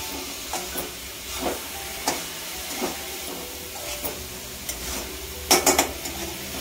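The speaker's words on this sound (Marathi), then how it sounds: "हे पण ढवळून घेते" A spoon stirs carrot halwa in a pan, making a series of scraping strokes at an irregular rhythm over a soft, steady sizzle, close by and ending in a few quick, louder scrapes.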